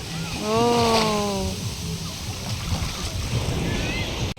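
Steady wash of sea water and wind at a sandy, rocky beach in Bataan, with a brief tonal whistle-like sound early on.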